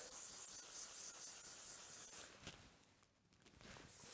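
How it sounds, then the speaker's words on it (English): A steady, hissing spray of hairspray onto a hand runs for a couple of seconds, then stops and gives way to quieter rustling. "I'm gonna spray quite a lot of hairspray on my hand"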